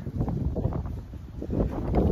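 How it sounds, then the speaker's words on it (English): Gusty wind buffets the microphone in rough, uneven bursts, with a dull outdoor rush that suggests rain falling. "it's windy and it's raining."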